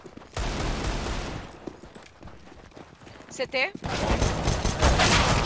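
Gunfire in the video game CS:GO, a burst of rapid shots rising loud midway and continuing to the end, with people talking over it.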